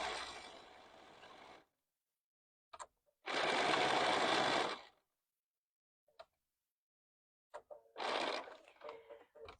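A sewing machine stitches quilt binding in two short bursts with a quiet gap between them, then stitches a final burst, with faint clicks and handling sounds in the pauses.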